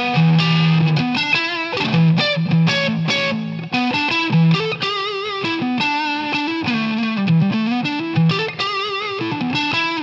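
Electric guitar on a single-coil neck pickup runs through a Xotic Soul Driven overdrive pedal, playing a continuous lead line of quick overdriven notes and bends, loud and close with no talking.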